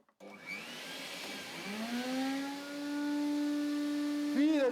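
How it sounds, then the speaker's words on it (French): Vacuum cleaner running on an Aferiy P310 portable battery power station, switching on abruptly and spinning up to a steady, loud whine with a rising motor tone, no talk. "je vais commencer par l'aspirateur"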